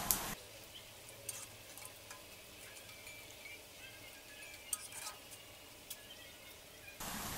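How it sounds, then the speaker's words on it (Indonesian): Tempeh chips fry in hot oil, giving a faint, steady sizzle with small crackles scattered through it and no voices. "Kita goreng sampai kecoklatan atau sampai matang."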